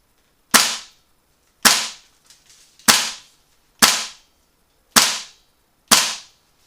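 Six sharp, loud shots from a GHK G5 airsoft replica, evenly spaced about a second apart, each a crisp crack with a short decaying tail in an otherwise quiet setting.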